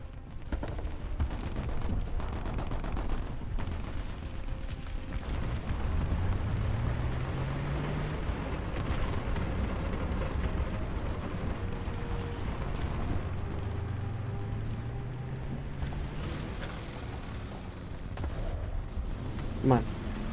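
Gunfire in the War Thunder video game, rapid bursts of shots over a low, rumbling engine drone that rises in pitch twice, with someone speaking excitedly over it.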